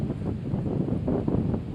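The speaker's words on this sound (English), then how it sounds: "it's so windy today" Wind buffeting a microphone in low, rumbling gusts while bass fishing outdoors, continuous and close, with no voices.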